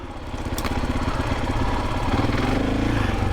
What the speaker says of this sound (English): I can feel the engine braking